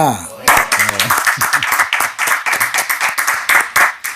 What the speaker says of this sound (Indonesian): Tepuk tangan buat Gus Aziz Jazuli, LCMH.